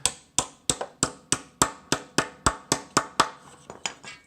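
A hammer flattens a sheet-metal HVAC duct drive cleat with about a dozen sharp, ringing blows, close and evenly spaced. The last few strikes come lighter.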